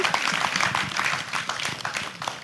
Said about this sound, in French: je voudrais qu'on applaudisse encore tous les candidats ici